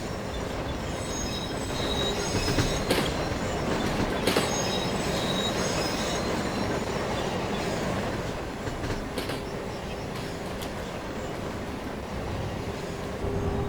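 A passenger train in Sim Rail rolls along steadily with a loud continuous rumble, wheels clacking over rail joints and faint metallic squeals on top.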